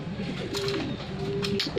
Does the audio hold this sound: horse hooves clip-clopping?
no